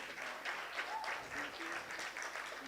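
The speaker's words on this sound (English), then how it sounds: "Please, a round of applause." A fairly quiet audience at a digital communication forum gives a short round of applause, a soft, steady patter of clapping with some voices underneath.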